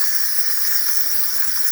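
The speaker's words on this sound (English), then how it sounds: "And as you can see, nice steam coming out to the one." Steam hisses steadily from the wand of a Saeco Incanto espresso machine after a repair for lost water pressure, a loud, continuous high rush with no pauses across the whole stretch.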